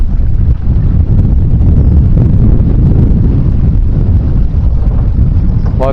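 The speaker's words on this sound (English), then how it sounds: "The wind is really starting to pick up" Wind blusters steadily across the microphone beside the Fox river on a breezy afternoon, a loud, continuous rumbling buffet that fills the whole stretch with no break.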